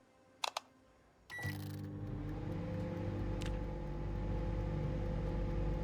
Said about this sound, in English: Let's microwave this pork chop.